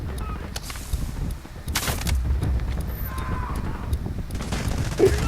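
Gunfire in the video game Delta Force, a burst of shots off to one side in a dense, steady mix of game noise, with a few sharper reports standing out.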